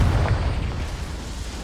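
Confringo blasting spell in Hogwarts Legacy going off as a loud, close explosion, a heavy low rumble that fades over about a second and a half.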